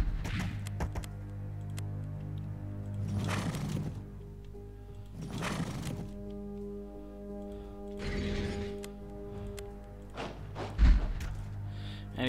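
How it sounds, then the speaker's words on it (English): Air support strike in the wartime strategy video game Unity of Command, several muffled booming impacts spaced a couple of seconds apart over a low droning background, with no voices. "Quickly need to call in some air support on these gentlemen to ruin their party."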